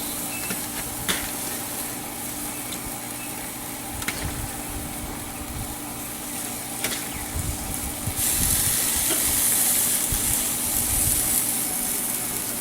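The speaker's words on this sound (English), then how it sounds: "You hear it sizzle a little bit because it's definitely a hot grill." Chicken thighs sizzle steadily on a hot Weber grill, a continuous hiss with a few clicks and knocks, growing brighter and louder toward the end.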